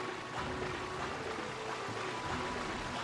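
Steady rushing water from a waterfall in the video game Sphinx and the Cursed Mummy, a continuous broadband wash at a constant level with no talk over it.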